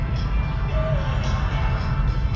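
Nitromethane-fueled funny car drag engine running stationary with the car disabled from moving, a loud, steady, dense roar filling the whole stretch at close range.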